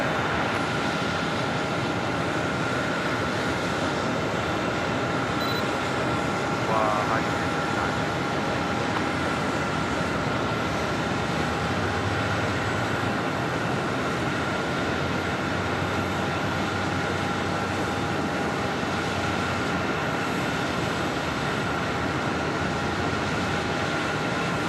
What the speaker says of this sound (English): we got a pushback going on